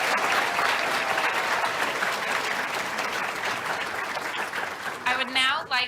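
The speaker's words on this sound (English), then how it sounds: "Let's give them another round of applause." Sustained clapping from an audience at a pharmacy school white coat ceremony, a dense steady wash that tapers off as a voice begins speaking near the end.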